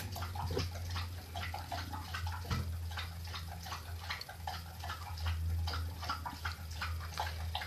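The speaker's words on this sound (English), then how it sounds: "my dog lapping in her water bowl like a cow" A dog laps water from her bowl in a steady, rhythmic series of wet slurps, close by, over a constant low hum.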